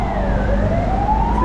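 Ambulance siren wailing on a Macau street, loud and near, its pitch sweeping upward and holding over steady road traffic rumble.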